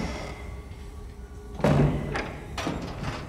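A door in Little Nightmares 2 swings shut with a single solid thud partway through, followed by a fainter knock, over a quiet, hollow ambient hum.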